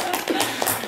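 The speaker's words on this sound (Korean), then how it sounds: "이렇게 바쁜 시간에 날도 추운데 공부를 하러 오셨는 여러분 스스로도 눈을 맞추고 박수 한번 치고 해야 돼" A brief, dense patter of an audience clapping their hands together at a gathering, steady and fairly close throughout.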